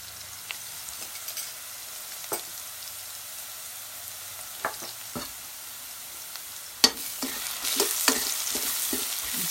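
Cumin, coriander and chili powder sizzle in a hot pan while being stirred, a steady frying hiss broken by scattered scrapes and clicks that grow busier and louder toward the end, with no talking.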